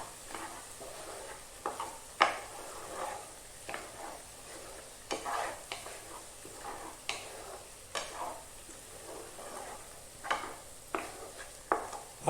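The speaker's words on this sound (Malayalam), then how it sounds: "ഒന്നുകൂടി ഇളക്കാം." Chicken masala fries in a pan while a spoon stirs it repeatedly, giving irregular scraping clacks roughly every second or two over a soft, steady sizzle, close and clear with no talking.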